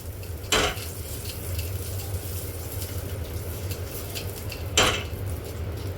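Cooking oil being spread with an onion across a dosa griddle to season it nonstick; soft scraping and sizzling over a low hum, with two sharp metallic clanks of cookware against the pan.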